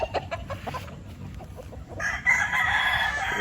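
A gamefowl rooster crows on a farm, a loud, clear call in the second half that follows softer clucking and general yard noise.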